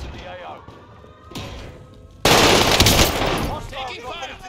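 Intense automatic weapon fire in Call of Duty: Warzone, a loud sudden burst of rapid machine-gun shots that cuts in after quieter game ambience and keeps hammering, with a voice calling out over the din.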